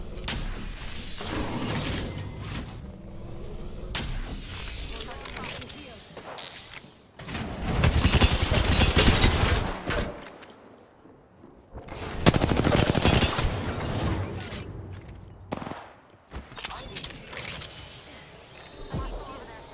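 Gunfire from the Apex Legends video game comes in dense bursts of rapid shots and heavy barrages, with loud stretches broken by brief lulls and scattered thuds and clatter, while a player talks at times.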